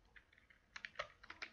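Quiet, light typing on a computer keyboard at a desk, with a run of soft scattered key clicks that turns into a quicker, slightly louder burst of taps.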